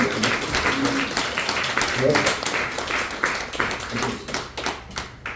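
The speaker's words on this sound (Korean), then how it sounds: "박수 한번 주시면" Applause from a church congregation during a Sunday service, steady clapping across the whole stretch with a voice talking over it, moderately loud and close.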